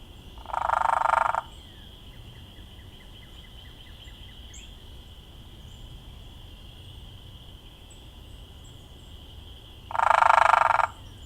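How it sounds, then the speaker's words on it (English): Hairy woodpecker drumming, a very fast and harsh hammering roll, heard twice as short, loud bursts about nine seconds apart against a quiet, faintly buzzing outdoor backdrop. "They're both producing this harsh drumming sound, but the hairy woodpecker just does it much faster."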